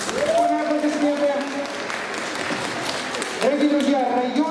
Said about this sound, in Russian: Ура, аплодисменты.